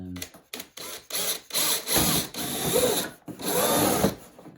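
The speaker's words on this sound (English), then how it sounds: "we'll just drill slightly on an angle to match the fuselage" A small hand drill bores at an angle through a bracket on an A-6 Intruder scale model, running in several short, stop-start bursts of whirring close to the microphone.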